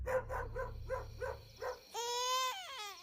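A dog tied up outside a house barks six times in a steady rhythm, followed by a baby's loud, wailing cry.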